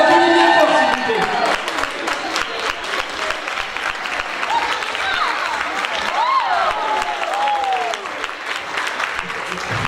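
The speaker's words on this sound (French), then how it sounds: "on les applaudit bien fort s'il vous plaît" An audience at a local festival queen pageant claps loudly for the contestants, with cheers and whoops rising over the applause and voices mixed in.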